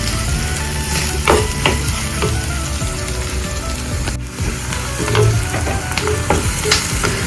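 Sliced onions sizzle and fry in a pan for a Kerala-style sardine chili curry, a steady close crackle with occasional scrapes of stirring and no voices.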